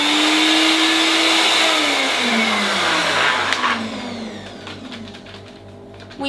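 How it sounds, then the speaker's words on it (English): A blender whirs loudly through ingredients for red cabbage vegan kimchi, including shallot and garlic. The motor pitch drops as the load changes, then winds down near the end. "right now I'm going to use the blender, and I will blend all the ingredients together"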